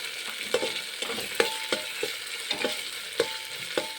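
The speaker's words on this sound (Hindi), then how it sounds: "इस तरह से हम ओनियन को भी डाल करके इसको अच्छी तरह से भून लेंगे।" Onions roast with garlic-ginger paste in a pan for butter pav bhaji, with a constant close sizzle broken by regular spatula strokes about twice a second, no voices.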